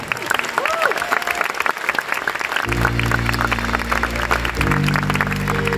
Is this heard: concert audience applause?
yes